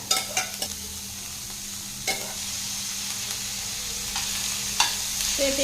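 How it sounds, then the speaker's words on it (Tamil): Chopped beans and cabbage sautéing in a pan, a steady sizzle under several sharp scrapes and knocks from a stirring spoon, close by with no talking. "அப்படியே கலந்து விட்டுறலாங்க காய் வந்து நல்லா வதங்கி வரட்டும்"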